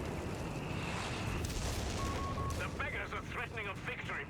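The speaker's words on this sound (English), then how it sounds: "we have some artillery coming in this sector" Dense rumbling artillery barrage in the World War II strategy game Company of Heroes 3, a continuous roar of booms and blasts that stays loud throughout, with commentators talking over it.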